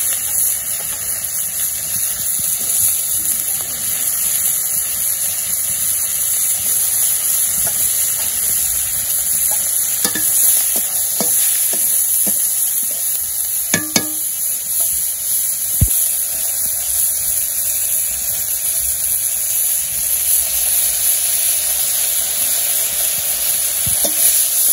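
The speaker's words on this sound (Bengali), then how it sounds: "তো মাছের সাথে পেঁয়াজগুলো ভেজে নিব" Onions and fish frying in hot oil give a steady, loud sizzling hiss throughout, with a few scattered clinks of stirring near the middle.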